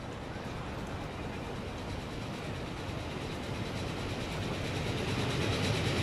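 A train rolls into a station in the video game Transport Fever, a continuous broadband rumble of wheels and engine that swells slightly louder as it draws nearer.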